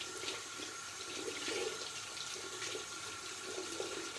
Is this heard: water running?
yes